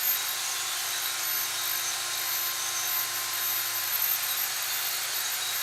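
Sanding a turned wooden bud vase spinning on a lathe, using the bottom edge of the sander: a steady, even high-pitched whirring hiss with a faint low hum beneath, continuous and unbroken throughout.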